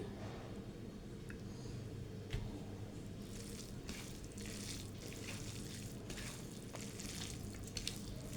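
Mashed cabbage being kneaded by hand with raw mustard oil, giving moist squishing and squelching close by, with soft wet bursts repeating irregularly and no talk.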